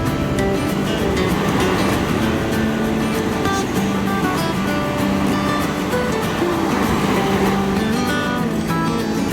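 Ocean waves wash against big rocks on the Northern California coast near Redwood State Park, a loud, continuous roar of surf with no break and no talking.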